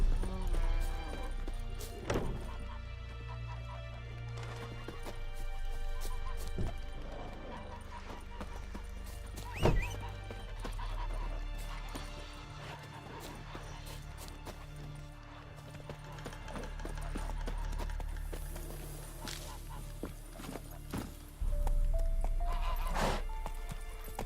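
Roach, Geralt's horse in The Witcher 3, gallops with steady clip-clopping hooves and lets out a neigh or whinny, sitting over an ongoing game soundtrack and ambience.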